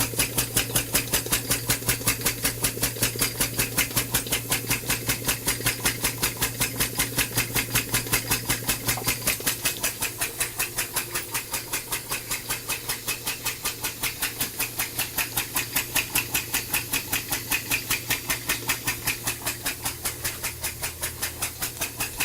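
Compressed-air piston engine running low on air pressure, a steady rapid chuffing beat repeating evenly throughout, close and continuous with no voices.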